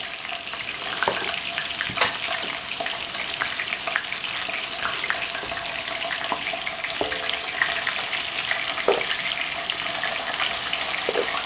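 Beef pieces frying in hot grease in a pot for pot roast, a steady dense sizzle with crackling pops throughout, close and fairly loud, no talking.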